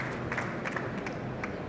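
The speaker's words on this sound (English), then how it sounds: "Can we have a round of applause, please?" Audience applause at a university talk, a steady wash of many hands clapping at moderate distance, continuous for the whole stretch with no voices on top.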